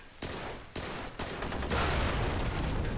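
Gunfire in the video game Blue Estate comes as a rapid string of sharp shots and bursts, rising into a dense, sustained barrage toward the end.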